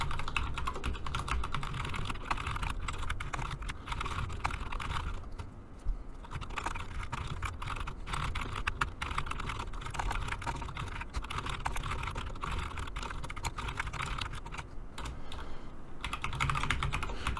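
Continuous fast typing on a computer keyboard while writing C++ OpenGL code, dense clacking keystrokes with only brief pauses, close and steady throughout, with no talk.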